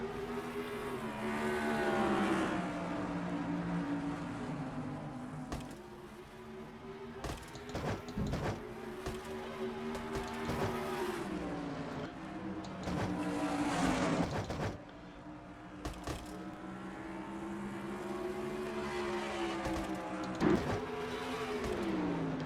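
A snarling pack of stock race cars roars around North Wilkesboro in a racing game, engines droning and rising and falling together in pitch as they pass, a steady, moderately loud mechanical whine broken by brief louder bursts.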